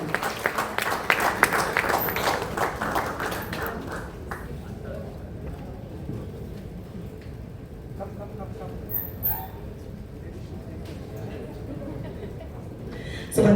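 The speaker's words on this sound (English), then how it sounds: "Let's have a big round of applause, everyone." Audience applause at an MOU signing event for RRP Electronics and Deca Technologies, strong clapping at the start that thins into a softer patter, with speech heard over parts of it.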